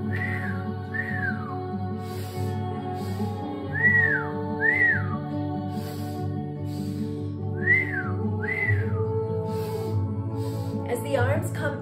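During a breathing exercise, a person gives about eight short rising-and-falling whistles on each exhalation, spaced evenly and close, over a steady low musical drone.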